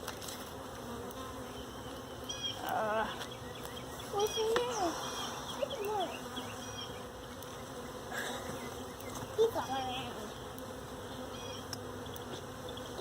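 Honey bees buzz in a low, continuous drone around an opened hive during inspection, with frames and comb being pulled apart; the buzzing stays fairly faint under occasional nearby talk.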